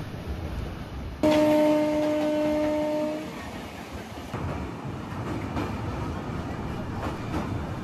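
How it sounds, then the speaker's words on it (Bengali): A train running fast on rails between stations in Howrah district near Bauria, with a steady rumble throughout and a sustained horn blast lasting about two seconds near the start. "ট্রেন বেশ ভালো গতিতে টানছে।"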